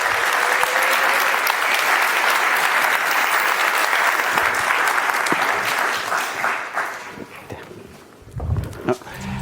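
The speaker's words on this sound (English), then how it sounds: "I beg you for a big, warm welcome for Isabella Meran-Waldstein from the Federation of Austrian Industries. A big applause." Applause from a conference audience welcoming a speaker from the Federation of Austrian Industries at a university innovation-marathon final, loud and sustained, thinning out toward the end with a few scattered claps and noises.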